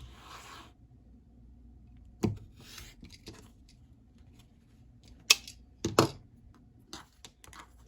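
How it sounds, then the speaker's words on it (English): Scissors cut out a fabric Dresden plate quilting piece, a scattering of quiet crisp snips and clicks spread irregularly over several seconds against a near-silent background, a few sharper cuts standing out. "you're just going to cut it out like a normal Dresden"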